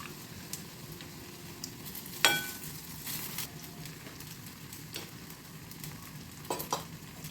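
Mung dal vadas fry in a pan of hot oil with a steady, quiet sizzle and soft crackle, broken by a few sharper pops and utensil clicks.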